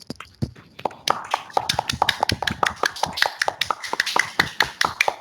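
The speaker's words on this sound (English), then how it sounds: "open your mic and give a big round of applause to everybody joining" Attendees of an online project delivery meeting clap over open microphones, a sparse, uneven patter of separate claps from several people that grows busier and continues steadily.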